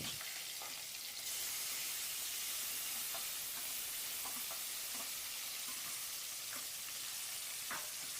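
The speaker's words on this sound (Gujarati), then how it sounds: "હવે આપણે કાપેલી લીલી મરચી નાખશું અને કાપેલા ટમેટા પણ એમાં એડ કરી દઈશું" Chopped green chillies and tomatoes sizzle in hot oil for a Kathiyawadi chapdi undhiyu, giving a continuous dense frying hiss with occasional soft stirring knocks and pops throughout.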